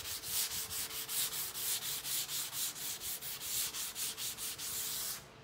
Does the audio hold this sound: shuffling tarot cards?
no